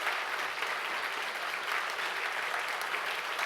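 An audience at a university presidential inauguration ceremony claps steadily, a broad even wash of applause that holds at a constant level throughout with no voices standing out.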